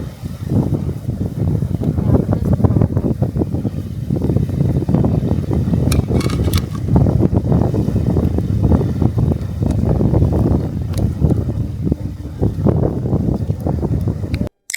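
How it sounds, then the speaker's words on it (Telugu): Strong wind roars across an outdoor cooking spot where onion pakoda and masala chai are being made, a loud, continuous buffeting rumble hitting the microphone for the whole stretch. "ఆ గాలి సౌండ్ చూసారా ఎంతలా వస్తుందో గాలైతే"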